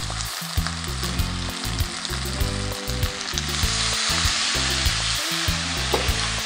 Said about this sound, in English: I pour the beef back and add some soy sauce to it.